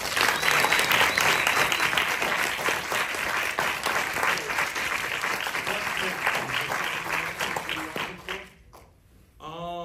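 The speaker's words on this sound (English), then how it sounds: "I think we should give a large round of applause" Loud, sustained applause from an audience at a movie Q&A, dense clapping filling nearly ten seconds before dying away abruptly near the end, with a few voices mixed in.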